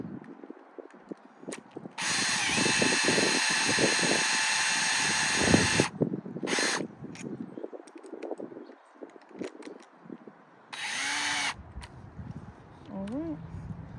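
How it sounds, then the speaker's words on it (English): A power drill with a 10mm hex bit whirs loudly for several seconds as it drives a stake into the ground, then a few shorter bursts follow, with a person talking in between. "you can get a drill with a 10mm hex bit, and it will do all the work for you"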